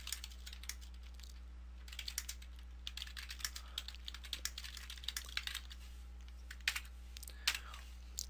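Typing on a computer keyboard while entering HTML into a paragraph tag, a run of faint, close, irregular key clicks over a low steady electrical hum, with a few louder keystrokes near the end.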